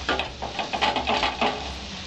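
Bay leaf and whole spices sizzle in hot oil while being stirred for Bengali chira polao made with flattened rice, a close steady crackle with soft scraping strokes of stirring.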